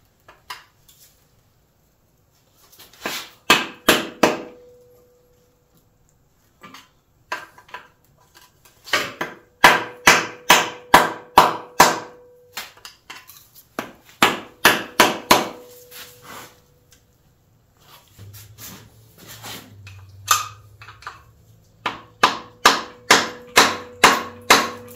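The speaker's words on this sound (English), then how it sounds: "with RTV, so we just gotta work it around and tap it and it'll come off eventually" A stuck 2JZ oil pan sealed with RTV is tapped loose in bursts of sharp, close metallic knocks, with brief pauses between the rapid runs and no talking.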